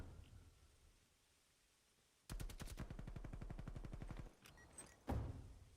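Gunshots in a competitive shooter game match: after quiet ambience, a rapid automatic burst of about two seconds, then a few scattered single shots and a final sharp report.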